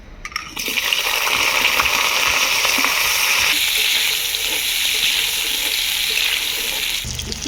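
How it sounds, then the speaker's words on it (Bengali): Potatoes sizzle in hot mustard oil in a karai, a loud, dense, steady frying hiss with faint stirring scrapes, heard alone without talk and ending with a brief low knock. "আলুটাকে লাল করে ভেজে নেব।"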